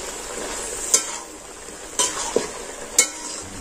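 Pumpkin and shrimp are stirred in a frying pan over a steady, close oil sizzle, with three sharp knocks of a spatula against the pan at roughly one-second intervals.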